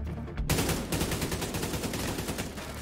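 Sustained automatic AK rifle fire in The Division 2, a dense, rapid stream of loud close shots that starts abruptly after a brief quiet moment and continues without pause.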